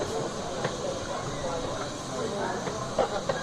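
Steam locomotive Northern Rock pulling a long train with two guards vans into Ravenglass station, a steady low hiss and rumble with faint clanks, heard at a distance under quiet talk.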